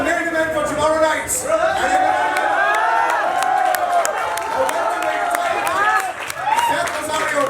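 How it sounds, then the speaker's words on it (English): A large crowd at a fight night press conference applauds and cheers steadily, with claps and whoops filling the air; voices rise and fall through the noise. "Big round of applause"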